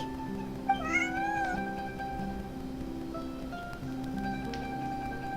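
A stray cat in the Genshin Impact video game gives one clear, close meow early on, set over a quiet, sustained musical backdrop.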